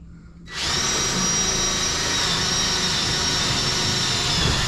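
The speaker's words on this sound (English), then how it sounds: "So let me get the drill and I'll be right back." A power drill starts up abruptly and then whines at a steady high pitch without stopping while it bores holes for rough wiring on a homestead, close and loud.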